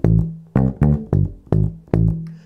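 Funk bass guitar riff, the first bar played through once more: five punchy, plucked low notes in a syncopated pattern, close and clear with no talking.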